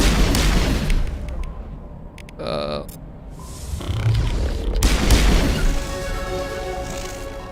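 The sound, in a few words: gunshots and ability explosions in video game Mass Effect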